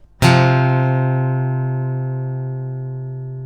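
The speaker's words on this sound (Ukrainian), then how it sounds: "Правильна відповідь це кварта." A perfect fourth interval sounds as a single struck, bright, keyboard-like chord that rings on and slowly fades over several seconds, close and clean, with no voices.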